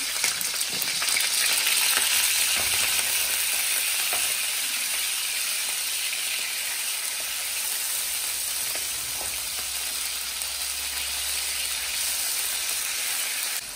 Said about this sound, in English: I'm going to add my beef direct to the oil.